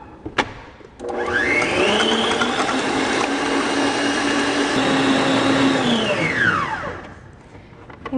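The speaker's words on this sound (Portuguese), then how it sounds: "Agora a gente vai reservar e vai colocar as nossas claras para bater até o ponto neve" Electric mixer whipping egg whites, a steady high motor whine that starts abruptly, holds for about six seconds, then winds down.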